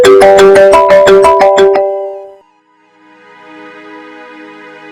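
A phone ringtone plays loud and close as a quick run of bright melodic beeps, then cuts off into a softer fading tone.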